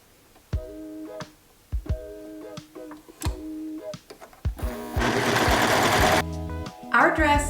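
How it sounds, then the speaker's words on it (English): An overlocker serging the side seams of a dress runs in short stop-start bursts with clicking between them, then a longer fast whirring run near the end, close and clear. "You just watched me overlock the side seams and the shoulder seams."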